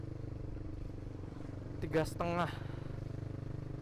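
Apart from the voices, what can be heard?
Proliner aftermarket motorcycle exhaust running loud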